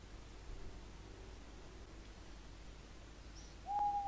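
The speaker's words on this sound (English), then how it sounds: "That was an owl, though." An owl hoots faintly and briefly near the end of a quiet sunrise scene in the game Broken Sword, over a soft steady hiss of ambient noise.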